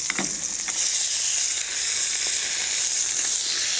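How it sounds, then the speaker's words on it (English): Shrimp and clams searing in a hot pan give a loud, steady sizzle with faint crackles and pops, close up and without any talking. "Clams goes in. I have a hot pan. Shrimp go in."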